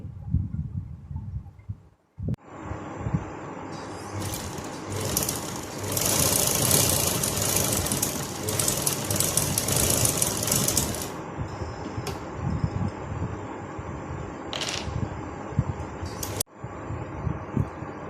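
A domestic sewing machine stitches a half-inch turned fabric fold forming the waistband casing of a ladies' trouser, running in a steady mechanical whir that starts after a brief click and carries on close and continuous to the end.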